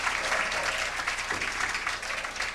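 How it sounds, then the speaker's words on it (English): A bowling alley crowd applauds after a strike at the 1995 PBA Jackson Senior Championship, steady clapping that holds throughout, fairly loud and continuous with no talk over it. "gets a strike and applauds with the crowd"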